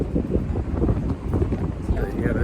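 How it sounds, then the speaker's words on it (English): Strong gusty wind buffeting the microphone on the Marina Bay Sands rooftop in Singapore with a low, rumbling roar, and a voice faintly mixed in. "Quite windy"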